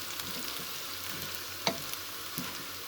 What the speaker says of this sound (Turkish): Evet arkadaşlar gördüğünüz gibi gayet güzel bir şekilde kavurdum